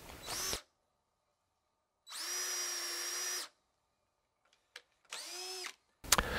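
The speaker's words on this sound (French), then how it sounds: "Je peux ainsi orienter ma perceuse" A power drill with a long wood bit bores a mortise in round timber, running in three separate whining bursts of one to two seconds each, separated by silence.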